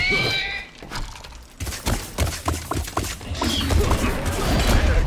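Rapid gunfire in the Funko Fusion Jurassic World video game, a dense burst of repeated shots that fills most of the clip, loud and close amid other game noise.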